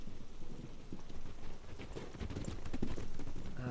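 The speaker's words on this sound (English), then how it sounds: "It's too hard to see in this rain." Steady rain pours down with scattered hard patters and a low rumble that may be thunder, with horse hooves clip-clopping along a road in a guided fantasy journey.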